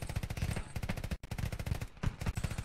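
Rapid automatic gunfire in the military shooter game Squad, dense bursts of shots in quick rhythm with one brief pause, loud and close.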